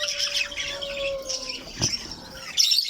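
Pet parakeets chirp nearby in short bright tweets and a thin whistled note, with a brief flutter partway through and a louder burst of chirping at the end.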